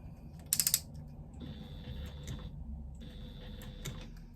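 A sewing machine runs a few short bursts of stitches forward and backward, its needle mechanism whirring and clicking close by in quiet surroundings, with brief pauses between runs.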